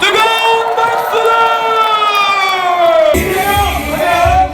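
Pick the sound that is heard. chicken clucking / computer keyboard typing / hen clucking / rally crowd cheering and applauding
rally crowd cheering and applauding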